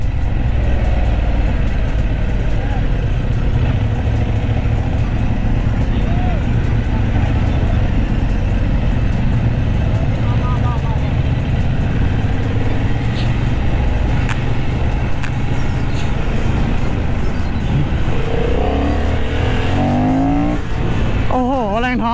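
A Honda CB750 Hornet motorcycle on a track, its engine roaring loudly and continuously close by, with revving that rises and falls, a voice speaking over it and a brief tire squeal near the end.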